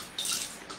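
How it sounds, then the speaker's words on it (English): Dyed yarn being wrung out by hand, releasing a brief spatter and drip of water, close and quiet, with a second smaller squeeze of splashing near the end. "I got to get some of this water out of it."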